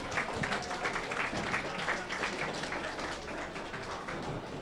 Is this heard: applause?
yes